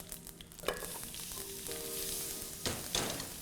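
Asafoetida, cumin, fennel and coriander fry in hot oil while being stirred, a steady close sizzle broken by a few scraping stirs, with no talk.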